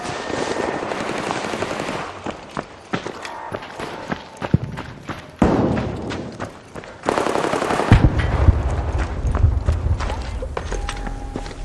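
An automated turret in the shooter game ARC Raiders fires bursts of rapid machine-gun shots, loud and close, broken by short pauses, with footsteps and other game noise around it.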